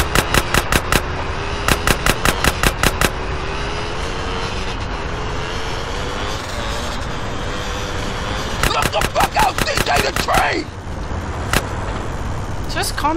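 Rapid bursts of automatic gunfire in GTA San Andreas, loud and sharp, clustered at the start and again near the end, over a continuous engine drone, with a voice talking in between.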